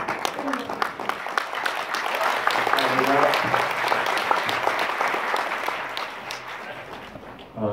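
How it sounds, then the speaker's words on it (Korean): Applause from a church audience welcoming a pastor at a 2018 Christian business association gathering, sustained dense clapping for several seconds, near and full, easing slightly toward the end. "이제 나오실 때에 뜨거운 박수로 환영해 주시죠"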